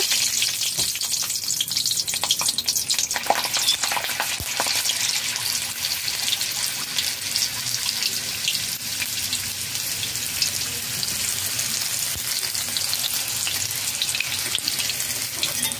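Green chillies fry in hot Dalda fat in a kadai, giving a dense, continuous crackling sizzle with spitting pops, close and steady throughout.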